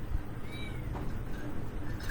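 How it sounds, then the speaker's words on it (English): Shadow the cat gives a short meow or two indoors, moderately close, over low household rumble with no talking. "I've got the cat."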